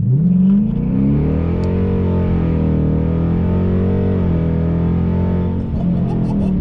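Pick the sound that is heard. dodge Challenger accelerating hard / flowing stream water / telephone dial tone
dodge Challenger accelerating hard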